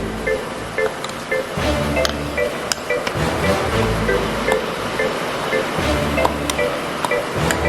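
Heavy rain pouring outside a rural village home, a steady dense hiss with scattered clinks and light clatter of dishes nearby, constant and fairly loud throughout.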